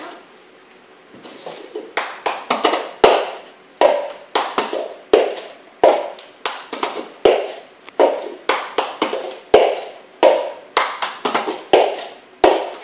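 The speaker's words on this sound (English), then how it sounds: "you have to go clap, clap, tap, tap, tap, move" Bare hands clap and tap through a patterned clapping game, sharp close strikes falling in quick clusters and steady rhythmic runs, some hits slower and some rapid, with no talking over them.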